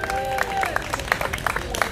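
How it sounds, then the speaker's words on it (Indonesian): A church congregation cheers and applauds, with dense clapping and crowd noise throughout and voices mixed in. "Berikan sorak-sorak"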